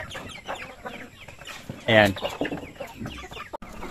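Chickens in a backyard coop in the Philippine countryside cluck and squawk close by, with one loud squawk standing out midway, while someone talks over the birds.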